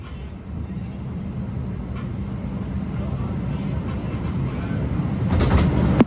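An R142 subway train on the 6 line, Brooklyn Bridge bound on the Lexington Avenue Local, rumbles steadily at close range from inside the car, with a brief louder clatter near the end.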